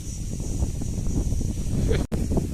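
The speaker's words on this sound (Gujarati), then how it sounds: "અત્યારે પવન એક નંબર છે, ઠંડો એવો" Steady gusting cold wind buffets the microphone in a low, continuous roar, with a brief dropout near the end.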